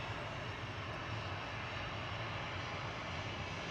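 Steady engine rumble from a TUI Boeing 737-800 lining up for takeoff at Manchester Airport, a continuous moderate drone heard at some distance, unbroken and without talk.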